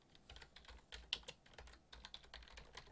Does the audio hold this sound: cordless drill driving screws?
no